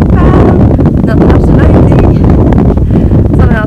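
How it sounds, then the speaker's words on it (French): Heavy wind buffeting the microphone during an outdoor walk on a sunny but breezy day, a loud constant low rumble and roar that masks everything, with voices faintly audible underneath. "il fait beau, mais il y a un petit vent encore plate, là, un petit vent désagréable"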